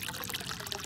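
Water from a homemade solar pool heater pours and trickles steadily into a pool, a close, continuous splashing stream with no voices.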